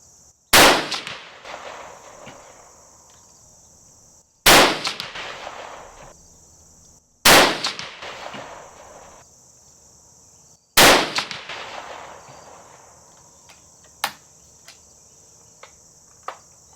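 Four loud, sharp rifle shots fired at a shooting range, each a few seconds apart with a ringing tail fading into the open air, followed by a couple of faint distant pops and no talking.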